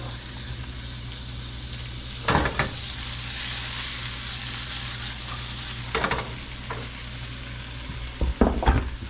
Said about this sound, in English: we're gonna saute these down, get everything in there